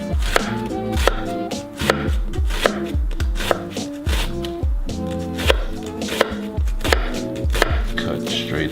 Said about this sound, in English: Cut straight through.